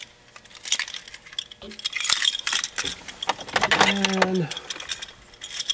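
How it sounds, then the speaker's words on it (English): Keys jangling and clinking close by in a truck cab, irregular metallic rattles and chimes that build and peak briefly, with a short spoken word and a mechanical tone in the middle. "Let me grab my keys real quick."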